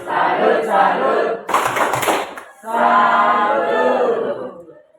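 A group of teachers in a coaching session claps out a rhythmic 'tepuk salut' clap pattern in bursts, loud and close, with voices chanting along between the claps.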